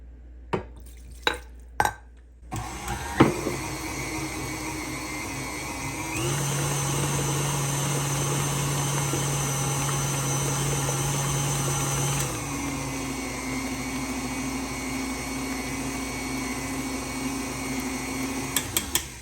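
An electric mixer beats lemon blueberry cake batter with lemon zest and juice, starting after a few sharp clicks and running as a steady whirring drone that rises in pitch midway, then settles lower until the end.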